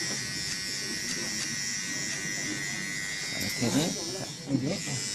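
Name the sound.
electric hair clipper cutting short hair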